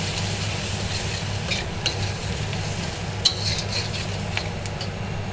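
Turmeric, chili and coriander being stirred into a cooking pan, with a steady frying sizzle and light scraping, plus occasional soft clinks of the spoon.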